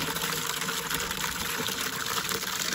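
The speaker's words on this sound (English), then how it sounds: "Put some water in there." Water gushes steadily into a plastic water tote at a dog boarding yard, a continuous broadband rush filling the container at close range with no pauses.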